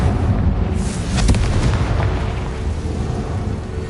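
A Confringo blasting spell exploding in the video game Hogwarts Legacy, a loud booming blast with crackling bursts that rolls into a lingering rumble.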